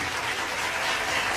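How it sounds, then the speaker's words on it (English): A crowd applauds at an open-air poetry performance during the Nevis Culturama festival, a steady, dense wash of clapping that holds at an even level throughout the short stretch, with no voices standing out. "give her a round of applause and give yourselves a round of applause"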